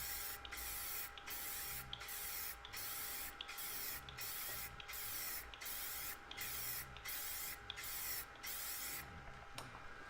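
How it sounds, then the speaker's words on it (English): Aerosol spray paint goes on as a base coat over a laser engraving canvas in even strokes, a series of about a dozen regular hissing bursts separated by short pauses, close and steady, no voices. "So easily just spray it on. Make sure that you're doing nice even strokes."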